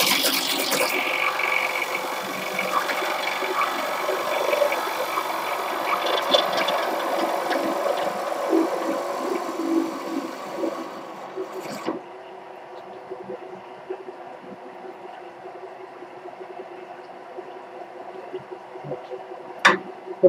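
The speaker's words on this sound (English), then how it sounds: "If I don't slow down my feed rate as I get into the center of the bowl, I don't allow the gouge enough time to cut the wood." A steady, droning rumble of a wood bowl being cut with a gouge on a spinning lathe fills the first twelve seconds, then drops to a quieter hum of the running machine with a sharp click near the end.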